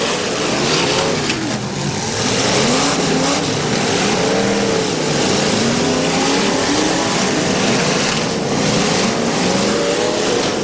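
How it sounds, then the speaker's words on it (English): Several cars running in a demolition derby at a firemen's festival, engines revving and wavering in pitch under a constant loud din of crowd and arena noise, no voices. "We got 8 cars still going,"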